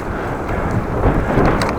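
Heavy wind buffets the microphone during a bike ride in open fields, a loud, continuous low roar that swells and gusts, with no speech.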